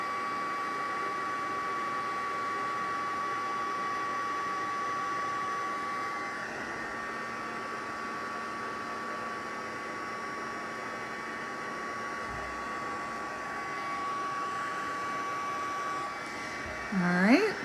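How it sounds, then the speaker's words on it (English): A heat gun blows a steady, moderately loud whir while heat embossing powder on a card; a brief clatter near the end breaks the even hiss. "If you haven't done heat embossing, this is so much fun, and you can just see it turning shiny as it heats it."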